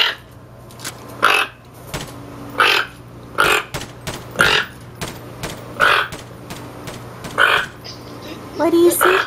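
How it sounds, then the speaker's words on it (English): A toucan at home in Berlin gives a hoarse, croaking alert call, somewhere between a frog and a pig. About eight short, rasping bursts repeat every second or so at close range, and a faint low steady hum runs beneath them. "This is the croaking sound the toucans make."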